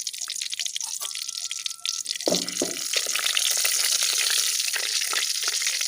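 Half a spoon of cumin seeds drops into hot oil, starting with a few faint taps and then a steady crackling sizzle that grows and holds close by.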